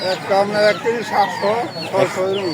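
At a busy poultry market, several roosters and chickens cluck and squawk close by in quick, overlapping calls, busy and loud throughout.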